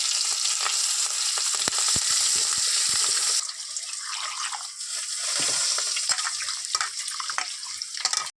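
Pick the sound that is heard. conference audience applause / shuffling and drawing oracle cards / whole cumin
whole cumin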